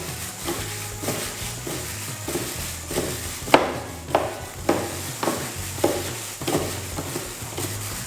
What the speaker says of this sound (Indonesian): Ini kita aduk dulu.